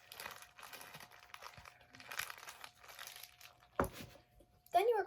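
Plastic zip bags filled with mixed colours are squished and crinkled toward one corner, giving close, uneven bursts of rustling and crackling with short pauses between them.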